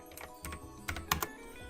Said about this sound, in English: keyboard noises.